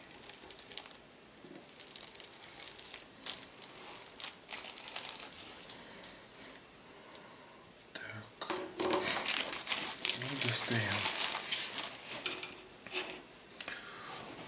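Plastic bag crinkled open around a 1/48 Kitty Hawk Yak-130 model kit sprue, with soft rustles building to louder, close crackling crumples midway, over quiet room tone.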